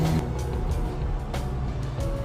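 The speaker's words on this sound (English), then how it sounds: "So they're just driving around, not caring about the speed limit here." Workers' vehicles drive past on a road through the deserted village of Feltville, New Jersey, as a steady, loud engine and tire rumble that swells briefly as one goes by close.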